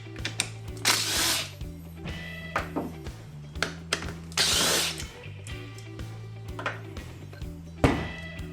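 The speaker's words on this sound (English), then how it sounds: "You can actually get to it with a ratchet or your nut driver and a 10mm socket." Seat bolts on a Suzuki Samurai being worked with a ratchet or nut driver and 10mm socket: short clicking and whirring bursts, close and fairly loud, over a steady background hum.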